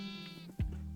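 A single sheep in the Minecraft video game gives a short, wavering bleat at close range, clear and alone with no talk over it.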